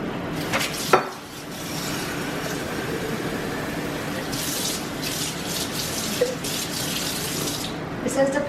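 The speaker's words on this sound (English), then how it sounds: "So I'm gonna pour some water at the bottom" Water poured into the bottom of an oven for steam cleaning, a steady splashing, running-water wash lasting several seconds with a few light knocks, close by.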